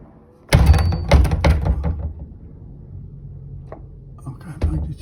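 A Paxton Switch2 magnetic door lock engages as the door shuts, with a sharp clunk and a few rattling thuds at close range, then quieter handling noises and a final knock.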